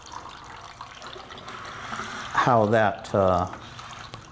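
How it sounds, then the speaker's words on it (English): Water runs steadily over a Royal Manufacturing gold dust concentrating table, a soft continuous wash and trickle under a man's close, loud speech. "Now again, here comes the water again."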